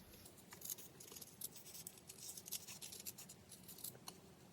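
Scissors snip through fabric pieces for a cat collage, giving soft, repeated crisp cuts at close range with a light scratchy texture, no voices.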